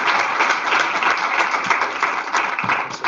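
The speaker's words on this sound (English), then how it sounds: "Let's give them a round of applause." Audience applause at a Senate meeting, a steady dense wash of clapping from many hands that stays loud and even throughout, with little talk over it.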